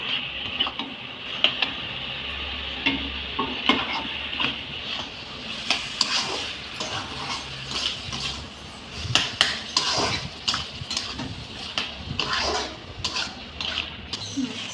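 Masala being stir-fried on a raised flame before shrimp go in: a steady sizzle with repeated scraping and clinking of a spatula against the pan, busy and close, with no talk.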